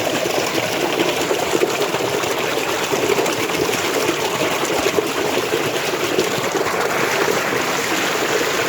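Water pours steadily from a plastic pipe outdoors in a village on a hot day, a loud, constant rushing splash close by with no pauses and no talk.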